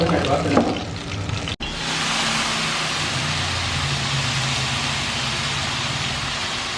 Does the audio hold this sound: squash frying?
yes